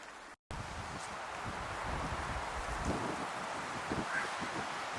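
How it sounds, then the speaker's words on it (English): Wind gusts across a snowy trail, giving a steady, fairly soft rushing with buffeting on the microphone and some rustling, heard alone and with no talk. "Wind's picked up."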